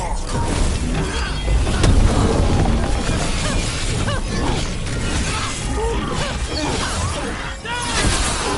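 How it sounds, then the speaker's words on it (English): Cannon fire in the Dragon Age video game, loud crashing booms and shattering debris over a dense rumbling game soundscape lasting several seconds. "Cannon fire! Get clear!"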